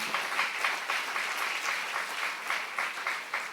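A church congregation applauds during a sermon, a continuous, even patter of many hands clapping at moderate volume with no other sound standing out.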